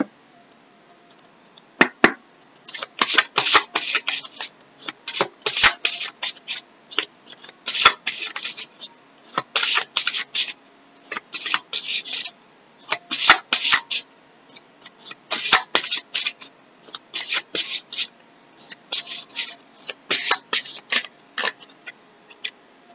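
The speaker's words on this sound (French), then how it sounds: "Bon, je vais vous tirer une carte." Crystal oracle cards shuffled by hand in close, crisp bursts of riffling and sliding, repeating in quick clusters with short pauses between, no talking.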